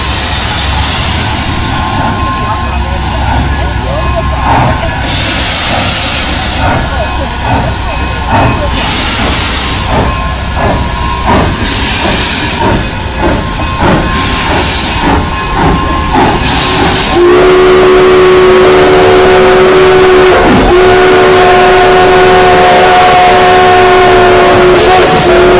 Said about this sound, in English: They're loud, the whistles.